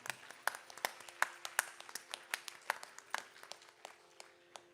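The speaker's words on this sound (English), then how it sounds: "she deserves a big round of applause" At a Bharatanatyam arangetram, a small scattering of hands claps for a devotional singer, sparse individual claps in a loose uneven rhythm, fairly quiet over a faint steady hum.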